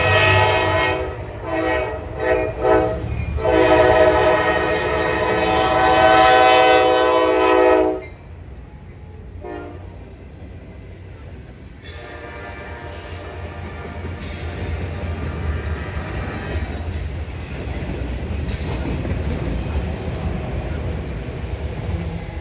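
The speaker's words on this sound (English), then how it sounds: "don't you pay us a visit and see some old friends, like the BNSF coal train? And just when one train passes, another is sure to take its place." A BNSF coal train passes close by with a loud, sustained horn blast, then a long rumble of rolling wagons and steady clickety-clack on the rails.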